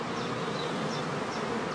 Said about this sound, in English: If the bees are restless and tend to run back and forth in the beeways, this is an imminent sign of swarming.